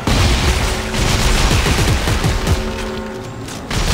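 Dense, continuous gunfire from a weapon in the sci-fi survival horror game Dead Space 3, loud and sustained with rapid overlapping shots and heavy low rumble, no talking over it.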